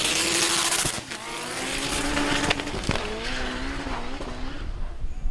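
Turbocharged front-wheel-drive Volkswagen race car sliding around the track at Mason Dixon: a loud, close engine roars steadily with scrubbing tire noise as the car skates through the turn, with no talking.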